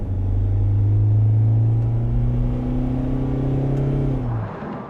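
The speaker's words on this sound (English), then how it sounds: "the kickdown, which lets the engine rev up pretty high before it actually shifts" A Mercedes Viano van engine revs high and steady for several seconds on automatic-transmission kickdown, then winds down as the pitch drops, loud and close with no talking.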